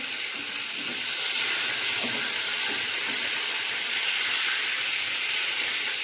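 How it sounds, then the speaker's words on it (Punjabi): Cut lemons frying in very hot oil in a kadhai for pickle, a loud, steady hiss and sizzle running unbroken throughout with no talk. "ਉਹ ਨਿੰਬੂ ਆਪਾਂ ਤੇਲ ਦੇ ਵਿੱਚ ਪਾ ਦਿੱਤੇ ਆ"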